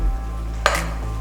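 Cooked rice tossed with stir-fry vegetables in a hot pan for fried rice: a soft background sizzle with one quick scraping stir and a short burst of hiss, close by.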